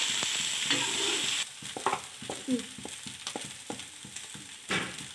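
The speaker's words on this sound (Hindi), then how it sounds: "अब हम इसमें डालने वाले आलू जो कि मैंने इसको मैश कर लिया है तो अब इसको हम भून रहे हैं इसके साथ" Mashed potatoes being roasted with soybeans in a pan, with a spatula scraping and stirring in short repeated strokes over a steady close sizzle.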